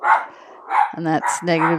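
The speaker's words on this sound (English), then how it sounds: "Sorry about the dog." A dog barks sharply two or three times close by, the short loud barks coming between and over a person speaking.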